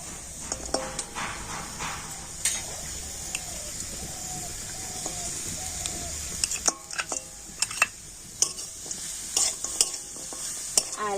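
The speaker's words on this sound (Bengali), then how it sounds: "এখন আমি এভাবে কন্টেও নাড়াচাড়া করে তো একটা সুন্দর পুর তৈরি করে নেব" Grated coconut and date palm jaggery are stirred in a wok with a spatula, giving a soft background sizzle broken by scattered scraping clicks and taps of metal on the pan, with no voices.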